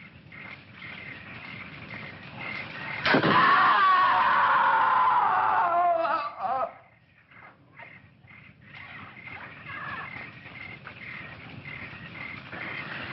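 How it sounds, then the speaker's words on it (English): A scream in a classic film, a loud, sustained high cry that breaks out suddenly and holds for about three seconds before cutting off, set against a steady bed of jungle insects and ambient noise. "I'm sure I heard a scream."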